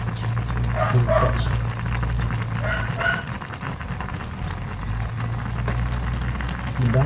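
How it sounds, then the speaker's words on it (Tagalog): A pot of paksiw, sapsap fish simmered in vinegar with kamyas and chili, boils at a steady rolling bubble, a close, continuous crackling hiss with no pauses, and faint talk in the background. "Ang bilis lang yung kumulo guys"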